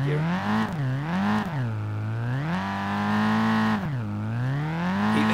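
A refurbished Nissan S13 engine in the SLRR racing game revs steadily while the wheels spin in first gear, its loud droning tone rising and falling in long sweeps with no voices present.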